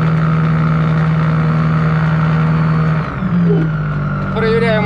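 A light aircraft engine runs at a steady drone during a run-up check on a runway, loud and close, with a brief dip and a change in pitch partway through.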